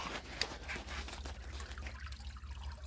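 Water pours and trickles steadily from a collapsed cave dome along the Strawberry River, a continuous close splashing flow with no voices.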